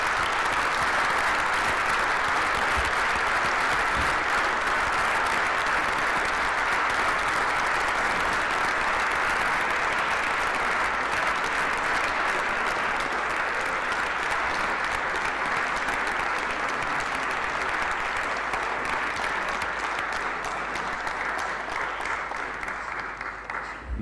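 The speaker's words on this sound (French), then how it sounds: "J'invite à ce qu'ils se lèvent pour qu'on puisse les applaudir." A municipal council chamber fills with long, steady applause for young elected youth council members, dense even clapping from a crowd lasting over twenty seconds and easing slightly near the end, with no voices.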